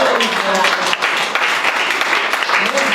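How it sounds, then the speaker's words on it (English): An audience at a magic show gives loud, continuous applause for three volunteers, a brief dense burst of clapping close at hand. "A big round of applause for all 3 of these guys"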